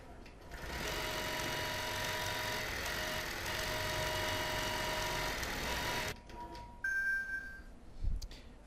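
A home sewing machine winds its bobbin in a quilting session, giving a steady, loud mechanical whir for about six seconds that then stops abruptly, followed by a few soft clicks and short electronic beeps.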